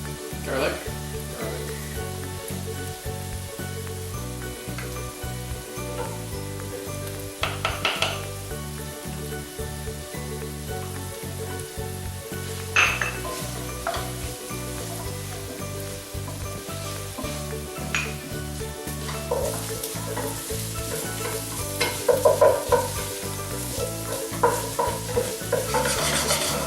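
Garlic and cheeseburger pie filling sizzling in a pan while being stirred, a steady loud frying hiss with repeated scraping and clinking of the utensil against the pan throughout.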